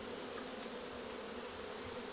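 Honeybees buzz in a dense, steady drone at a beehive kept in Ivry, close and continuous throughout with no voices.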